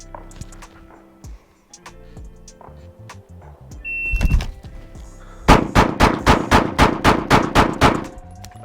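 Gunfire on a live practical shooting run with a CC9 small gun: one heavy report, a pause, then a rapid string of about ten evenly spaced loud shots, close to the shooter.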